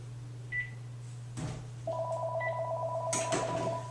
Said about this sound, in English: Let me turn this phone off real quick.